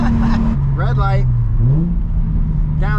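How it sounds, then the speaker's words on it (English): Nissan 350z HR fitted with a Megan Racing drift spec exhaust, accelerating hard and then downshifting, its loud engine note rising and falling under a man's excited speech. "That Megan Racing drift spec exhaust that we have on this car, I will argue that it almost sounds better than a Tomei."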